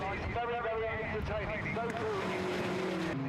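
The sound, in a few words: TVR racing cars accelerating at Thruxton circuit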